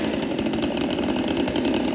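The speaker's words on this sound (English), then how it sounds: "let's turn on the chainsaw" A chainsaw runs steadily at a fast, buzzing idle with a rapid pulsing rhythm, close and fairly loud, with no voices.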